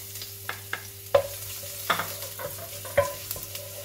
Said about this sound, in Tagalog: Ilagay natin yung garlic.